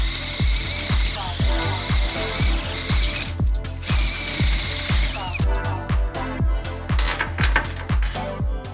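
Rapid repetitive mechanical clicking and grinding of a step drill bit biting into the metal of a shipping container, steady and close, with brief pauses partway through.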